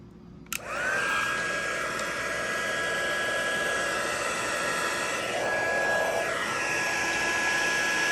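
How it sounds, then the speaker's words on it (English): An embossing heat gun switches on with a click and then blows with a loud, steady airy roar and a high whine that runs unbroken to the end. "So I will be turning the heat gun on now if you want to turn your volume down."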